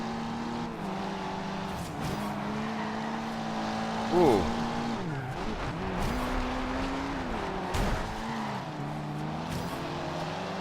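Civilian cars taking a corner in an open-world racing video game, with a steady engine drone that shifts pitch through the turn and a brief squeal near the middle, under a voice making a short exclamation.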